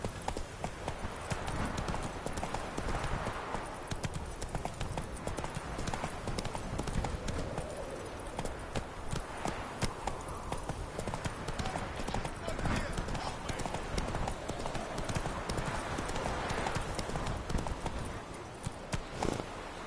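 Roach, the horse in The Witcher 3: Wild Hunt, galloping with a rapid, continuous clip-clop of hooves throughout, loud and close, while a voice speaks over it.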